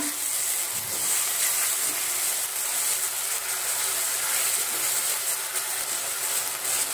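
Ginger garlic paste sautéing in a pan, a steady, even sizzle and hiss that holds without a break, with no talking over it.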